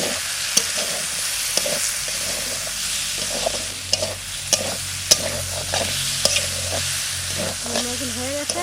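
Fresh garden eggplant frying in a pan with crushed neem leaves: a continuous close sizzle broken by repeated clinks and scrapes of a spatula stirring, with faint background sounds.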